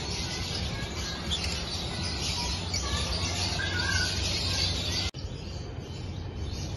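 Lovebirds in an aviary chirp and tweet continuously in a dense, bright chorus at steady loudness, with one brief dropout near the end.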